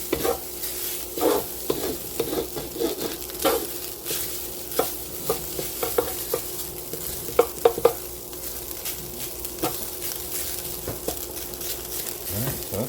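Rice toasting and frying in a pan with bacon, Brussels sprouts and vegetables crackles with a steady sizzle, broken by repeated scraping stirs and the clacks of a utensil against the pan, with no talk.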